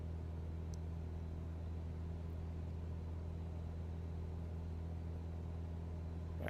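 Steady piston aircraft engine drone in Microsoft Flight Simulator 2020 as the mixture is leaned and RPM climbs, a constant low hum with strong harmonics running unbroken and even throughout.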